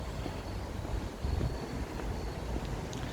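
Wind blows across the microphone outdoors as a steady, close, buffeting rumble with no voices.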